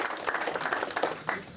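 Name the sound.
audience applause for Andy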